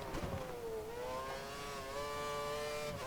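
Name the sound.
racing car engine revving under throttle, video game F1 2013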